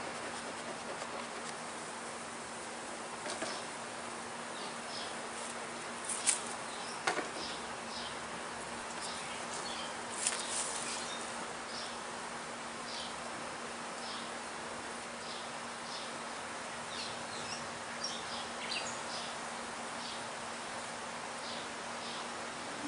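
Honeybees gathered at a hive, feeding heavily on sugar syrup, give off a soft, steady hum with faint scattered buzzes of individual bees passing close by.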